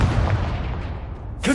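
A Confringo explosion spell cast in a video game lands as a short, heavy booming burst that decays into rumble, followed by a sharp fresh crack at the very end.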